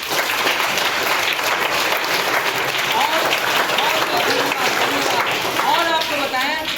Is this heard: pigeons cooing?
no